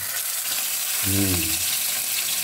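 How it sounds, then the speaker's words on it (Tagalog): Fish frying in a pan, a steady close hiss and crackle of hot oil that runs throughout, with a short voice-like murmur in the middle. "Ipiprito na natin ang isda."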